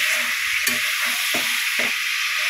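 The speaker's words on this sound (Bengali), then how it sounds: "চিকেনটা একটু ভালো করে ফ্রাই করে নিয়ে" Chicken frying in a pan gives a steady sizzle and hiss from start to finish, with a few soft stirring knocks cutting through it. No one speaks.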